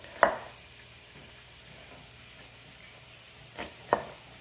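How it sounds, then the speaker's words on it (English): A knife slices through an onion on a cutting board in a home kitchen, giving two or three sharp, isolated cuts spread across a few quiet seconds. "And I just slice my onion."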